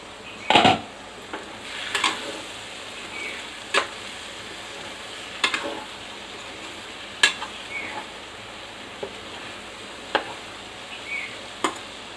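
Utensil stirring a tamarind leaf, egg and ridge gourd curry in a pan, with intermittent scraping clinks spaced a second or two apart over a faint steady sizzle, close by and without speech.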